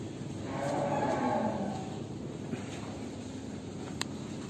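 A Brangus cow gives one long, low moo nearby, followed by quieter farmyard background noise.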